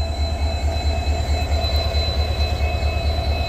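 A passing Indian Railways train hauled by a WDP 4D diesel locomotive rolls by close and loud, a steady continuous rumble with rhythmic low pulsing and faint wheel squeal, with no voices.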